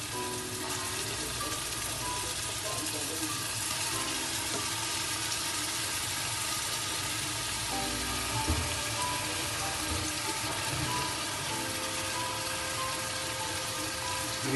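Ginger garlic paste sizzling in a large batch of chicken pulao, a steady, loud hiss of frying oil with faint stirring and bubbling underneath, continuous throughout.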